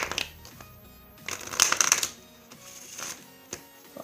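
Deck of playing cards shuffled for a magic trick, a close flurry of riffling card flutters swelling then trailing into a few lighter taps, no talking.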